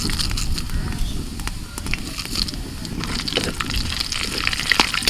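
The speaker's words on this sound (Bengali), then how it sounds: "তেলের মধ্যে ফোড়নে দিচ্ছি তেজপাতা শুকনো লঙ্কা" Bay leaf, dried chilli and nigella seeds dropped into hot oil, giving a loud steady sizzle and crackle close up for several seconds, with no talk over it.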